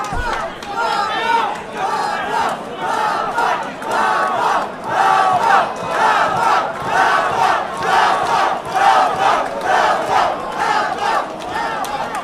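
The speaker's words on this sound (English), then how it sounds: "CFT crowd going wild for Rafa." Fight-event crowd at a Total Fight Challenge show roaring and cheering wildly, a dense, loud, sustained wall of shouting voices that swells in repeated waves throughout.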